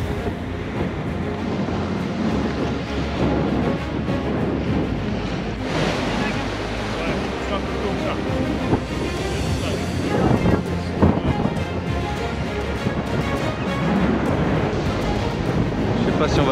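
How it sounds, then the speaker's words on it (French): Rough sea and strong wind over 20 knots buffet a sailboat under genoa, with loud continuous wave wash and wind rumbling against the microphone. Surges build and fall throughout, and a voice speaks over it. "Et la mer est un petit peu plus agitée."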